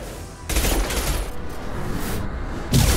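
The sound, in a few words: weapon fire in the Mass Effect 2 video game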